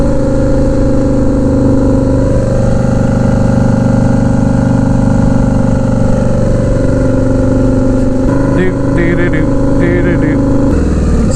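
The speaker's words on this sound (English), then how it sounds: "I love that I can just roll into throttle and air flutter." Turbocharged Harley-Davidson V-Rod Night Rod engine pulling hard under steady throttle, a loud continuous drone with turbo air flutter, with a voice talking over it throughout.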